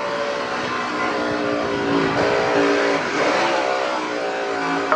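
A NASCAR race car's engine revs loudly and steadily as the car spins during a Kyle Busch race, with rising and falling pitch sweeps across the continuous roar.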